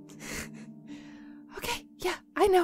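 A sneeze bursts out at a tabletop roleplaying game cast party amid casual conversation, followed by a couple of short sharp vocal bursts as people talk nearby.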